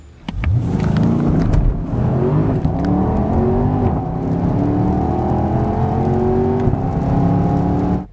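A 2014 Porsche Panamera, GTS or Turbo with sport exhaust, accelerates hard on the road: its engine rises in pitch through several gears in a loud, continuous, close run with no talk.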